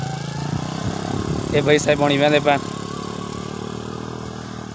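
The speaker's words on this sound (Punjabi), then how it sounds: "ਇਹ ਮੋਟਰਸਾਈਕਲ ਪਾਣੀ ਦੇ ਵਿੱਚੋਂ ਗੁਜ਼ਾਰੀ ਪੈਣ" Motorcycles wade through river water with a steady close engine drone running throughout, while someone talks loudly over it.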